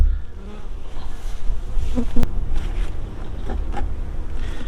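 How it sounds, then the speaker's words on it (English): Honey bees buzzing around an opened hive during an inspection, a steady droning hum with individual bees swelling louder as they pass close, loud and continuous. "I've still got a few buzzing around me"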